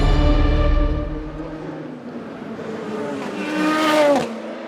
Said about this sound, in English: A Porsche loses control and Davidson goes off as well